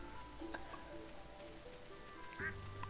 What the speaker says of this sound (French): Bonjour les canards, bonjour mes canards